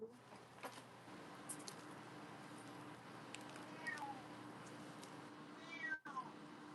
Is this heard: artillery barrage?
no